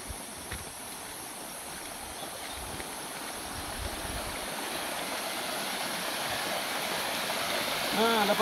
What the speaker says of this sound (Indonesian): ini aliran sungai yang lebih kencang daripada aliran yang tadi